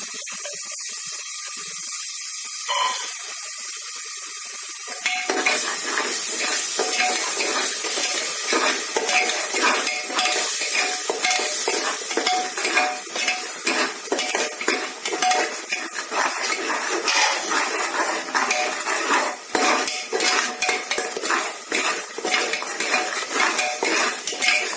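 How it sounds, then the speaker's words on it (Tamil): A paste of ginger, garlic, onion, mint and coriander sautéing in a pan for veg biryani, with a steady sizzle under repeated metal spoon scraping and stirring, after a quieter start. "அரைச்சு வச்சிருக்க இஞ்சி, பூண்டு, வெங்காயம், புதினா, கொத்தமல்லி பேஸ்ட் லைட்டா ஸ்மெல் போற வரைக்கும் வதக்குவோம்"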